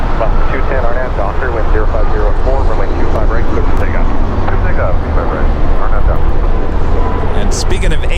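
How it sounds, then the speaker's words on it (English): Asiana Airlines Airbus A350-900 airliner departing Los Angeles International Airport, a steady, loud engine roar and rumble filling the whole stretch without pause. "We're looking at Asiana Airlines Flight 201 about to depart to Seoul on an Airbus"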